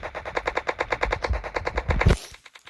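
Rapid bursts of Uzi fire in the Roblox zombie game, a steady close rattle of regular shots lasting over two seconds before stopping abruptly, with no talking.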